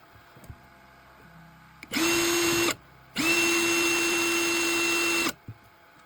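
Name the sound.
power drill driving screws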